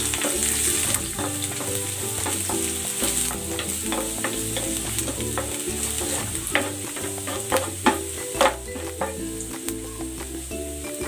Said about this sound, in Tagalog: Maglalagay ako ng cooking oil. Igigisa ko na tong luya.